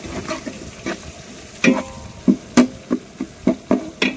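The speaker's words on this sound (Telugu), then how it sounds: "క్యారెట్, పచ్చిమిర్చి, అల్లం వెల్లుల్లి పేస్ట్, అలాగే బఠానీలు ఇవన్నీ వేసి కాసేపు అలాగా ఉల్లిపాయలు వేగనిచ్చాం" Onions frying in a pan with carrot, green chilli, ginger-garlic paste and peas, stirred in a rhythmic run of close scraping strokes over a faint sizzle, with no talking.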